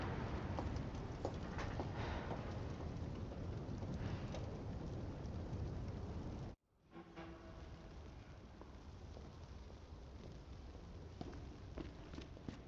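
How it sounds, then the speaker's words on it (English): Steady heavy rain in the video game Resident Evil 2 hisses continuously, cutting out briefly midway and returning slightly softer, with occasional faint knocks under it. "Never-ending rain."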